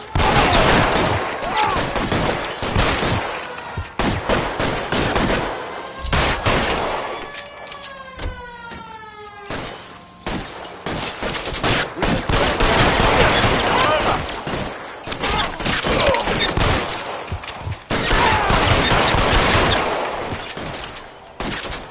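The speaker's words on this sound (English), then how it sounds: "Lay down some covering fire." Sustained covering gunfire in the video game L.A. Noire, dense bursts of rifle and machine-gun shots rattling almost continuously, with a short lull and shouted voices mixed in.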